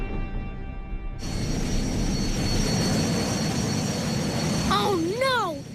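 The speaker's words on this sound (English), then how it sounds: "Oh no! Look at that big jet!" A big cartoon jet roars past with a loud, sustained rushing whoosh that swells in and holds, ending with whistling sliding tones; no speech over it.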